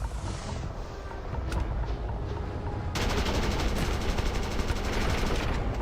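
A weak gun fires in a sci-fi video game: a few scattered shots, then a rapid, continuous burst of close gunfire that carries on to the end.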